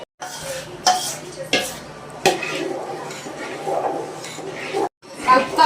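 Rice flour batter is poured into boiling water and stirred in a pot, with scraping and clinking of a utensil against the metal in irregular strokes, close by.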